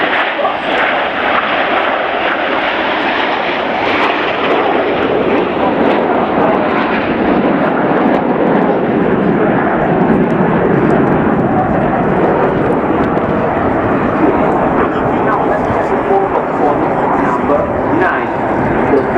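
A formation of nine military aircraft roars overhead at the Royal International Air Tattoo 2022 air show, a loud continuous engine rush with an announcer talking throughout.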